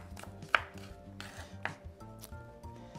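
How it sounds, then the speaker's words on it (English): A knife finely chops a yellow onion, giving a quick, steady run of close, crisp taps with one sharper knock near the start and no talking. "So we're going to cut that onion really fine."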